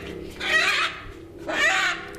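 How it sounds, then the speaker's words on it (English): Captured chickens at a showground awaiting a veterinary check give two loud, close clucking calls over a steady low background hum. "the captured chickens wait for a vet check"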